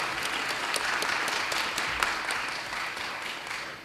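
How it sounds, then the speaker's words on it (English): Applause from an audience at a county school board meeting, a steady wash of many hands clapping throughout, dense and even, with no talk over it. "So give yourselves a round of applause for all of our accomplishments"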